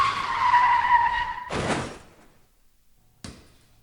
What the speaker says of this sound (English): and a car pulling out in front of you.